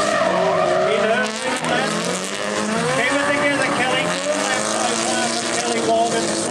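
Drift cars skid through the infield section of a stadium drift event, tires squealing in long wavering howls over sustained engine roar, loud and continuous, with a commentator talking throughout.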